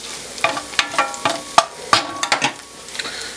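Onions fry in too much olive oil in a pan, sizzling steadily while a utensil stirs them in sharp, uneven scrapes and taps, close and fairly loud.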